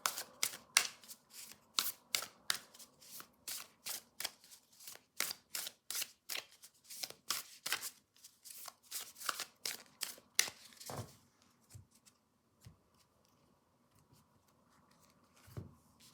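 Tarot cards are shuffled by hand, with a rapid series of crisp riffling snaps in close succession for about eleven seconds, followed by a few faint soft taps in near silence.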